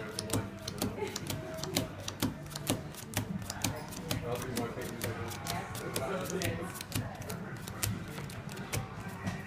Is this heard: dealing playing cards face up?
yes